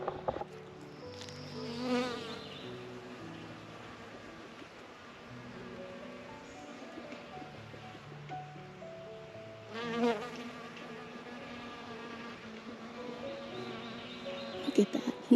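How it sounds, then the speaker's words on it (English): Honeybees buzz around borage flowers in a mid-May vegetable garden, a close, steady hum with swells in loudness as individual bees move nearer. "Those honeybees love this borage, don't they?"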